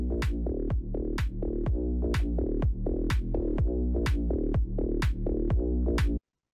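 A short song sample plays from a phone in the Facebook Reels app, with a punchy, regular beat and bass-heavy tone, sounding compressed as if from a small speaker, then cuts off abruptly.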